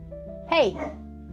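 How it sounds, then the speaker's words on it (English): A dog barks once at home in an everyday household setting, a single sharp close bark rising over steady background hum, with faint noise trailing after. "I'm grateful for all of it, including the dog barks."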